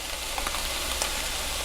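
Stuffed peppers frying in a pan with adobo sauce give a steady, close, broadband sizzle with faint crackles and no voices.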